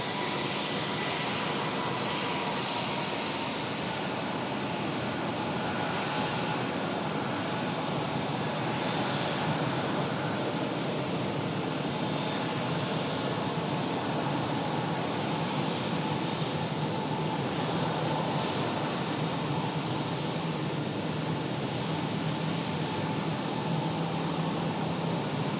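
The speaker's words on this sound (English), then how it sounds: "Aer Lingus pushing back." Aer Lingus airliner's engines at an airport ramp during pushback, a steady loud broadband roar and whine continuing throughout without pause.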